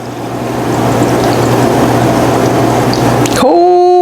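Cold water pours steadily into a cooking pan while smothered pork chops are being made, a loud, continuous splashing rush that cuts off abruptly near the end, leaving a brief ringing tone.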